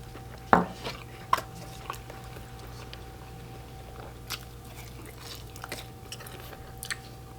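Someone bites into and chews a Papa Johns Papadilla with crispy crust and meatballs, a sharp crunch followed by soft, close chewing and a few faint clinks of dishes.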